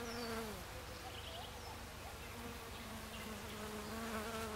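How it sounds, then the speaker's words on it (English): Native bees buzz steadily and close around flowering bok choy gone to seed in a subtropical vegetable garden, their wavering drone continuous and fairly quiet. "The bees and the native bees just love it."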